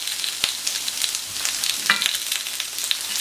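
Carrots, broccoli and small courgettes searing on a hot plancha give a steady, close sizzle with faint scraping stir sounds and occasional soft clicks, with no talking.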